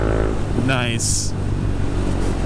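Honda CB300F motorcycle with a quickshifter and aftermarket exhaust, a close, loud engine drone with a quick pitch change as it shifts, mixed with wind rush and a sharp high-pitched burst, while a rider talks over it.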